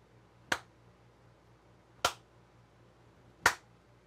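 Three crisp finger snaps, spaced roughly a second and a half apart, ring out one by one against a quiet background with a faint hum, each a sharp, close click made to trigger a sound-detection effect.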